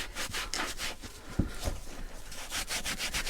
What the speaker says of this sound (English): So let's start scrubbing a little bit.